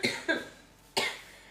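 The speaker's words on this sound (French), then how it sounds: "Là, c'est la farine qui me fait tousser." Cough triggered by flour dust while making puff pastry for a millefeuille: two quick close coughs, a short pause, then a third, with no talking.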